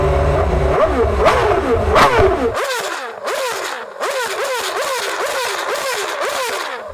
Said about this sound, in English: is it as impressive As a Formula One naturally aspirated V8 revving